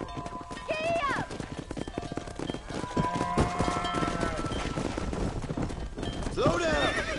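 Horses galloping in the video game Red Dead Redemption, a fast steady clatter of hooves with loud neighs and whinnies near the start and end, while people shout over the running herd.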